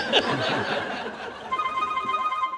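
A telephone rings with a steady electronic warble after a brief burst of laughter, clear and fairly close, repeating until the end.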